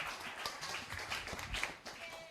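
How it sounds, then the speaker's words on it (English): Scattered audience clapping for a speaker named Anna at an evening plenary session, quiet and somewhat distant claps in an uneven rhythm, tapering off near the end. "Let's clap for Anna again."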